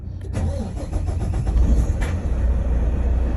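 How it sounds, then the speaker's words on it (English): A semi truck's diesel engine starting automatically under an idle management system: a short cranking whir that catches into a loud, steady rumbling idle, close and with no talk. "So you'll hear the truck start."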